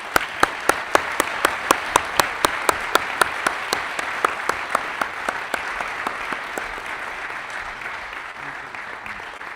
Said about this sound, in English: So please give a round of applause and your warm welcome to Miss Antoinette de la Cruz.